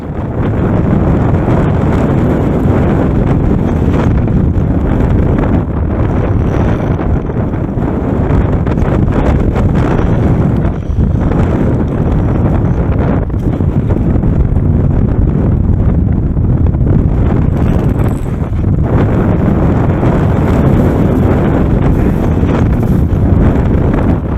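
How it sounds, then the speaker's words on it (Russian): Strong wind on a ridge of Denali, Alaska, roars continuously and loudly, buffeting the microphone with a heavy, unbroken rumble and gusty surges. "На гребне, как и ожидалось, ветер нас основательно потрепал."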